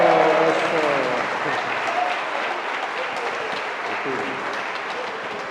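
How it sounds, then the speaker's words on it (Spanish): Audience applause at a Christmas Eve celebration, a dense crowd clapping steadily throughout, fairly loud and sustained, with some voices mixed in at the start. "Un aplauso."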